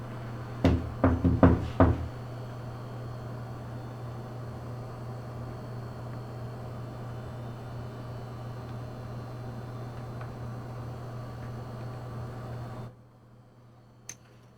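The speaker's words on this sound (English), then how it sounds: "can you make a knocking sound again?" A quick burst of about five loud knocks on a surface in a dark room at La Cocina, 201 North Court Ave., Tucson, followed by a long steady hum that cuts off near the end, with one faint click after.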